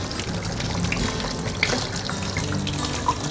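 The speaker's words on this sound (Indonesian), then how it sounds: "kita siram dengan air mengalir begini" Purple leaves are rinsed under a running kitchen tap, with a steady stream of water splashing close by and small drips and clinks on top.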